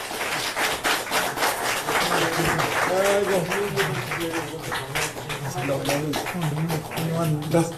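A press-conference audience applauds steadily, dense broadband clapping filling the room while a voice talks over it throughout.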